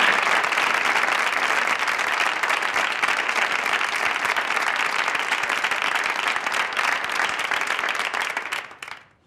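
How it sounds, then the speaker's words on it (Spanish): Loud, steady audience applause fills a hall after an education talk, holding constant throughout before fading out quickly at the end. "Un fuerte aplauso."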